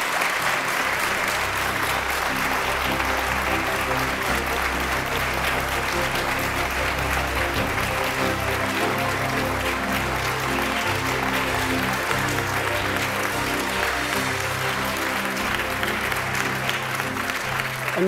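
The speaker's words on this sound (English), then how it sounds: "Let's give him a round of applause." Sustained applause from the audience at the 2013 Kenya presidential debate as a candidate is introduced, a dense, even roar of clapping that holds steady throughout.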